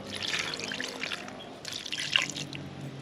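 Water trickles and splashes as a small amount is poured into the base of a guinea fowl light soup, a steady close dribble with a few sharper drips.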